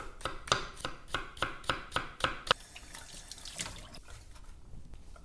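A knife slices beef thinly on a cutting board for beef noodles, about eight quick, evenly spaced chops close up, then stopping and giving way to faint kitchen handling noises.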